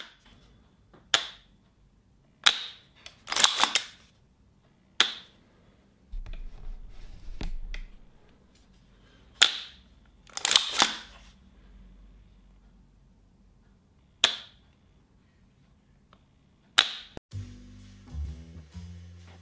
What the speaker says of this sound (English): the reset that sucks your finger back out with a clunk under the heavier spring tension